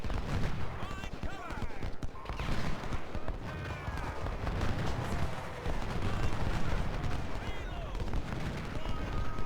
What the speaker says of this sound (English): Sniper is shooting.